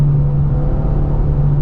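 A 2025 Ford Mustang EcoBoost under full throttle gives a steady, low engine drone inside the cabin, with no clear rise in pitch over the short stretch.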